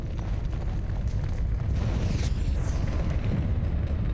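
A steady, dense roar of fire in Dragon Age: Origins, a constant low rumble with crackling texture that stays loud throughout.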